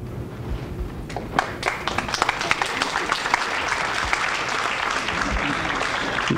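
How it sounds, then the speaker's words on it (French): An audience at a talk on kindness breaks into steady applause, many hands clapping with some sharper nearby claps standing out, continuing evenly to the end. "Là, j'espère qu'ils t'applaudissent, toi,"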